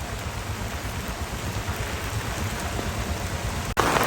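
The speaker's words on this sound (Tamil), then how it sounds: "நல்ல மழை தான் பெய்து கொண்டிருக்குங்க" Heavy rain pours steadily during flooding in Karainagar, a dense, even hiss of drops hitting surfaces that fills the whole stretch with no talking, ending in a brief louder burst.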